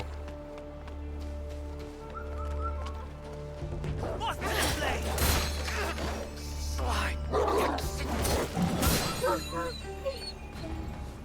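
Dogs bark and yip in Wuchang: Fallen Feathers. Several sharp barks pile up in the second half over a low droning game score, mixed with crashes and impacts, and someone talks over part of it.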